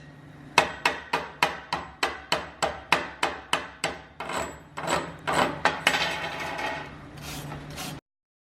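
A hammer chips slag off a 1/4 inch horizontal flux core fillet weld on plate, about a dozen sharp, evenly spaced close strikes followed by a denser burst of faster, scraping chips.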